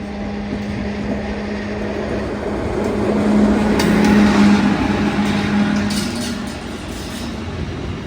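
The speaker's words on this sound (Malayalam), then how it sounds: "ഇതുവഴി ഒരു ഗുഡ്സ് ട്രെയിൻ വരികയാണ്." A goods train loaded with cars rumbles past on the line between Ernakulam and Hazrat Nizamuddin, a loud steady rolling roar with a sustained low hum that swells in the middle and eases off.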